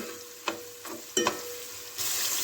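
Finely chopped onion fries in a pan, with a few scraping stirs and clinks of a spoon before the sizzle swells louder near the end.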